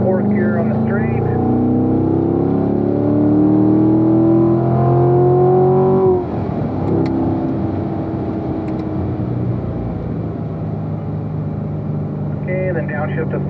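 A Corvette engine pulls hard up through the gears on a race track, its steady drone rising in pitch, then dropping at a shift around six seconds before climbing again, with someone talking over it throughout.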